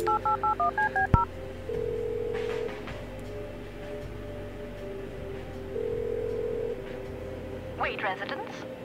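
A phone number is tapped out on a keypad in the video game Kathy Rain, a quick run of evenly spaced touch-tone beeps, then a steady ring tone pulsing under background talk.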